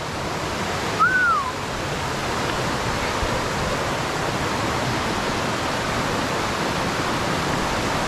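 Steady, dense roar of rushing water from a waterfall in Thailand fills the scene without pause, with a brief high whistle-like bird call near the start.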